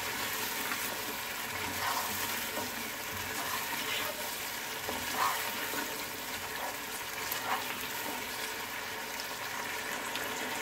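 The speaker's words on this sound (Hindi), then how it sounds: "हम इसे उस वक्त तक भूनेंगे जब तक ये जो साबित प्याज नज़र आ रही है ये अच्छी तरह" Onions fry with mutton in an open pot, giving a steady, even sizzle with soft bubbling and occasional stirring, heard close but fairly quiet and with no break.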